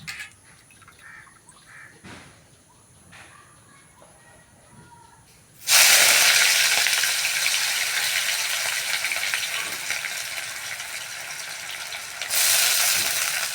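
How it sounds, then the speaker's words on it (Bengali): Onions fry in hot oil, with a quiet lead-in and faint talk before a loud, sudden sizzling hiss bursts in at about six seconds and carries on steadily, swelling again near the end. "পেঁয়াজটা ভালো করে ভাজা হইল।"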